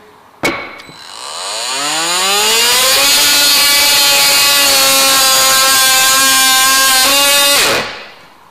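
A Parkside PAMFW 20-Li cordless oscillating multitool soft-starts from a click, ramps up to a loud steady high-pitched whine, and cuts into 21 mm glued birch plywood, holding a strained buzzing tone for several seconds before spinning down, with no talking.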